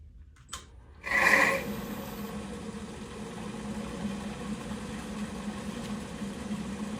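A woodturning lathe hums steadily as a gouge cuts into spinning wood, a continuous close grinding drone after a brief clunk and a sharp startup burst.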